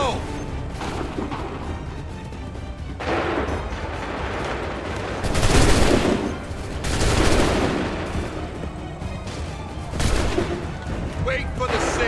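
Musket volleys in Assassin's Creed 3: several loud swelling bursts of massed firing a few seconds apart, each with a booming rumbling tail, over continuous battle noise with shouted voices.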